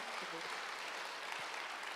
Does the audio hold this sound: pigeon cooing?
no